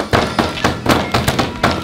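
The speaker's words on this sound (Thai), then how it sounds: "เราต้องทุบ ทุบซองโอริโอของเราเนี่ยให้แหลกอ่ะ" A sealed packet of Oreo cookies is pounded to crush them, giving a quick series of loud, close thumps at a fairly regular rhythm, about seven blows in under two seconds.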